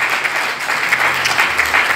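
A church congregation claps and cheers in praise of the Lord, a steady, dense wash of applause from a large crowd that holds for the whole moment.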